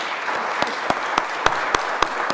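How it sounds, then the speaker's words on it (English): At a church annual meeting, a small congregation gives a brief, steady round of applause for a parish member, with a few sharp claps standing out at a regular beat. "I think we should give a round of applause to Leslie Labriola for everything"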